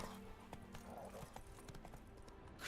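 Horse hooves clip-clop steadily from Roach, Geralt's horse in The Witcher 3, a moderately close, rhythmic trot layered over game ambience with faint background voices.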